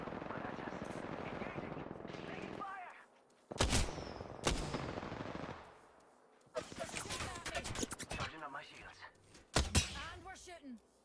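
Apex Legends gunfire arrives as several loud, sharp bursts and volleys amid game effects, separated by quieter stretches, with a voice talking during parts of it.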